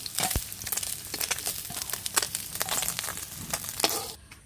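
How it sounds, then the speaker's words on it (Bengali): Fish frying in hot oil in a pan, a steady crackling sizzle scattered with sharp pops and spits, close and moderately loud, with no voices. "মাছ ভাজা হয়ে গেছে দেখো কত সুন্দর কড়া করে ভেজে নিয়েছি মাছ ভাজা নামিয়ে দিচ্ছি"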